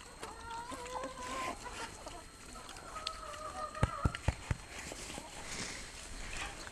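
Farm chickens cluck and crow close by, with bursts of fowl calls over a busy outdoor background and a few sharp knocks or footsteps midway.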